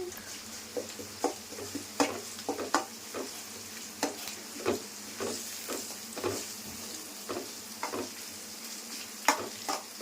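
Ginger garlic paste being stirred in a pan for Telugu-style chicken curry, a steady sizzle underneath with repeated scraping clicks of the spoon in an uneven rhythm, close and fairly quiet, no talking.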